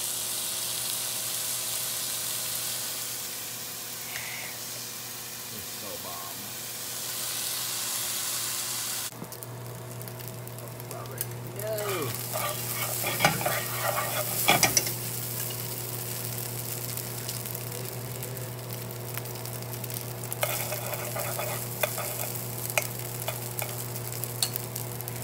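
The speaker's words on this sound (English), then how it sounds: "Now, this is going to cook just nicely. Now, sizzle, sizzle, baby." Chili sizzles steadily in a hot pan, a constant frying hiss with a low hum behind it, joined after a few seconds by scraping and clinking of a utensil stirring close by.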